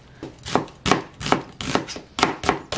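A small onion chopped with a knife on a cutting board: about ten crisp, evenly spaced knife strikes in a brisk rhythm, close and clear, with no talk.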